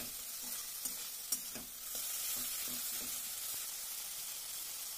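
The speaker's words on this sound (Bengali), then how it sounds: "প্রথমে রসুন বাটাটা দিয়ে ভালো করে কষিয়ে নিলাম" Garlic paste sizzles steadily in a hot pan for a Bengali chital fish curry, with a continuous frying hiss broken by several sharp scraping taps of a spatula as it is stirred.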